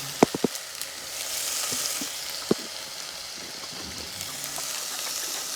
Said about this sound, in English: So now I've just got the tin of coconut milk going in there